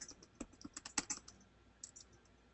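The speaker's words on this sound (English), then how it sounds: "we're typing away" Students typing on computer keyboards during a remote class, heard as irregular quiet clusters of key clicks, busiest in the first second and then thinning out, with no talking.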